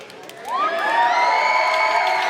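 A wrestling crowd at a VCW title match swells into loud, sustained cheering and whooping, rising after the first half-second and holding steady, with no commentary over it.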